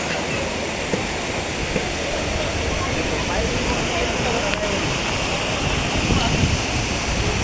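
Kalu waterfall in Maharashtra gives a constant, hissing rush of falling water, near and even in level, with no break throughout.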